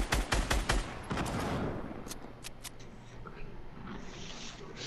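Gunfire in Fortnite, a rapid burst of loud shots at the start, then a few scattered sharper shots over a softer background wash.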